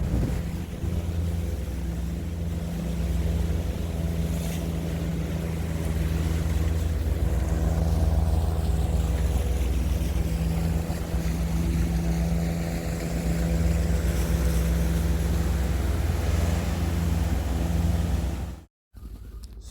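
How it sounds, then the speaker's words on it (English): Sailboat motors drone steadily and loudly, working hard against a strong outgoing tidal current, with wind buffeting the microphone throughout and no speech. "So this gives the motors a real hard workout coming in here."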